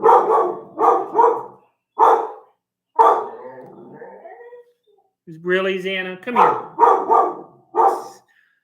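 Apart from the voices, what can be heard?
dog barking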